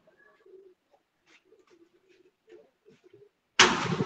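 Sialkoti black-faced pigeons on a rooftop make a scattering of faint, low coos and murmurs close by, then a sudden loud burst of noise cuts in at the end.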